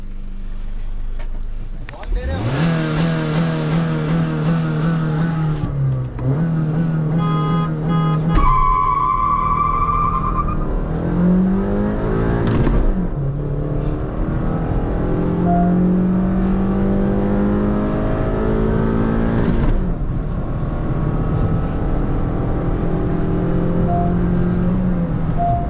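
Hyundai Verna and stage 1 Honda City cars launch in a drag race, engines revving hard and climbing in pitch through repeated gear changes over about twenty-five seconds, loud and close with wind buffeting.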